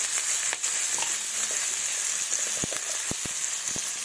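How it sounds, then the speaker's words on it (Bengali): Potato strips frying in oil with salt and turmeric, a steady close hiss of sizzling with occasional sharp clicks and taps of a utensil against the pan. "তো এবার আলুগুলো আমি ভেজে নেব"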